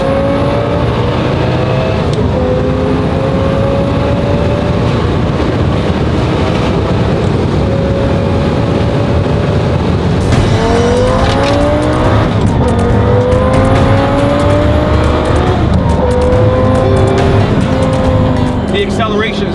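A car accelerates hard through its gears, the engine note climbing in repeated rising sweeps with brief shift breaks, loud and close from inside the cabin.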